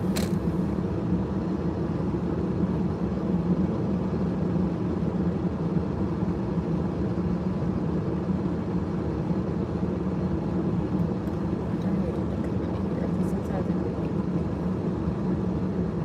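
A car creeps along a road coated in black ice, giving a steady, continuous low rumble of engine and tires that holds even from start to finish with no voices.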